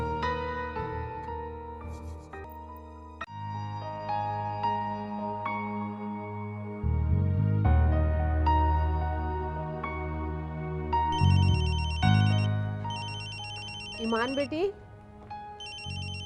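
A mobile phone ringtone plays a melodic electronic tune that loops over several seconds, fairly close and steady, alongside musical background score, with a brief spoken voice early on.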